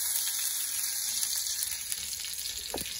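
Garlic and prawns frying in hot oil, a loud, dense close-up sizzle running continuously, with a brief thud near the end.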